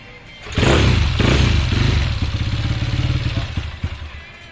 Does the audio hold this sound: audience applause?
no